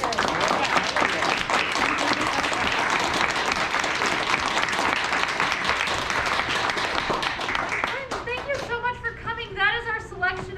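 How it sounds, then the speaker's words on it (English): An audience at a play-sharing event applauds with dense clapping for several seconds, then voices begin speaking over the fading applause. "One more round of applause for Elliott."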